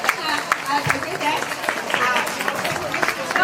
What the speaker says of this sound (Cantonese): 大家俾掌聲啊！